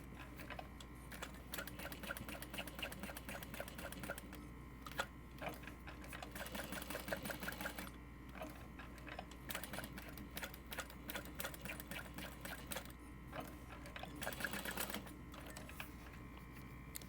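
A sewing machine stitching a clutch wallet in quick rapid bursts of needle clatter, stopping and starting with short pauses between runs, fairly quiet and with no talk.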